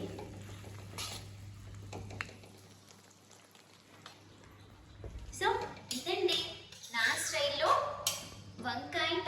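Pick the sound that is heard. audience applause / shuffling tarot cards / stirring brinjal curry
stirring brinjal curry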